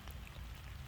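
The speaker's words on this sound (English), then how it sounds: "The rain's starting to come down a little bit more" Steady rain falling outdoors in the Atlanta area during a heavy downpour, a dense continuous low rushing patter close by with no pauses and no voices.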